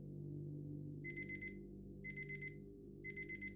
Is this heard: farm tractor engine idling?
no